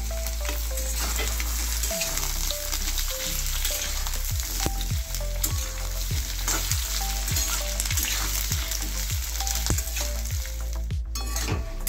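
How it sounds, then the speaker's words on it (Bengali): Thinly cut potato strips and onions frying together in hot oil, with a loud, constant crackling sizzle and repeated scraping knocks as they are stirred in the pan, close and with no one speaking. "এবার দিয়ে দিচ্ছি আলুগুলো পেঁয়াজগুলো একসাথে ভেজে নেব"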